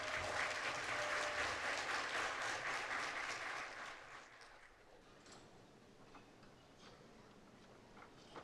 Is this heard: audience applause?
yes